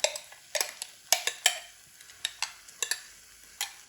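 Onion with tomato paste cooks in a pan for a homemade mini pizza topping, as a spoon stirs with a dozen sharp clinks and scrapes over a faint sizzle, close and otherwise quiet.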